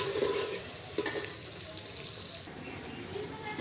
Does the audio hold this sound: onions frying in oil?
yes